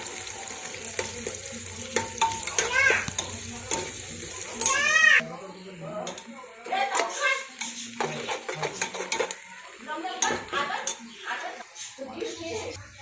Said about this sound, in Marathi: त्यांना असे लांब कापून कांदा छान लालसर होऊ देणार आहोत